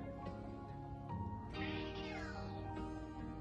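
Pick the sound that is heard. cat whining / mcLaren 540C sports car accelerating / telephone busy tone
cat whining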